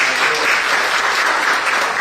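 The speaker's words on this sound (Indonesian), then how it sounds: "Kita berikan sorak-sorai bagi Bapa di sorga." A church congregation cheers and applauds in a dense, loud, continuous wash of clapping that fills the whole space without a break.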